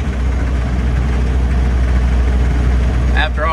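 A 1931 Ford Model A engine runs steadily in first gear on a cold day, a loud, continuous low idle-like rumble with a constant throb from start to finish.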